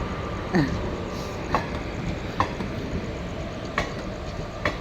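A train rumbles steadily at Nilambur railway station, with a continuous low roar and soft, evenly spaced clicks from the wheels, heard from a moderate distance.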